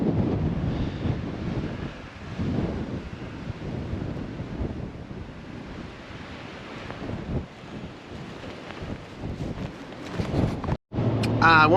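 Strong wind in southwest Oklahoma buffets the microphone with a loud, continuous roar that rises and falls in gusts, and a voice speaks briefly under it.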